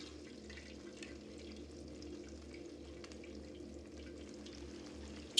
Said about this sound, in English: when you dip the chicken in. It sizzles.